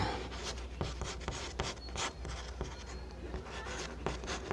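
Chalk scratches and taps across a classroom board as a math answer is written out, a busy run of short strokes and knocks, close and fairly quiet, with no talking.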